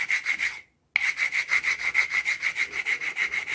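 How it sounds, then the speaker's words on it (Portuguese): Rhythmic abrasive scraping of sandpaper on the ends of a 20 mm PVC pipe, steady back-and-forth strokes close up with one brief pause, no talk. "o único segredo mesmo é a questão de fazer as duas pontas aqui lixadas no esquadro"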